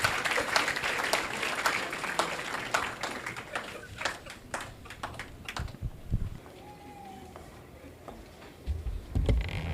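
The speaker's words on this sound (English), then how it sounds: "A round of applause for her" Scattered audience clapping at a freshers orientation for applied science students, loud at first and then thinning to a few sparse claps, with faint voices and room noise underneath.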